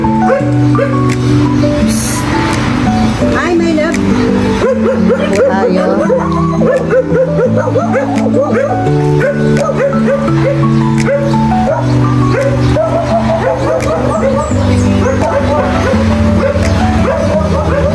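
Many dogs in an Antipolo neighbourhood bark, yip and whimper together in a loud, continuous, overlapping chorus close by, while people talk over the noise.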